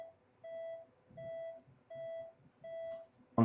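A character's medical gear in a video game gives four evenly spaced electronic beeps, each about half a second long, clean and moderately loud over a quiet background, followed by a short burst of noise.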